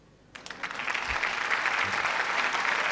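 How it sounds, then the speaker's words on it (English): A large audience breaks into loud, sustained applause at the Miss Universe Malaysia 2010 pageant, the clapping swelling quickly and holding steady as a dense wash of hands. "Thank you for that huge round of applause."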